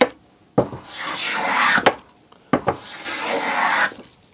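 A western hand plane shaves wood in two long, close rasping strokes, each starting with a sharp scrape, swelling into a hissing shave and ending abruptly, separated by short quiet pauses.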